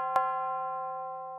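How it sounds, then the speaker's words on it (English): A single bell sample for a dark, hard beat in FL Studio strikes once and then rings out with a clear, sustained tone that slowly fades. "And then lastly, this bell."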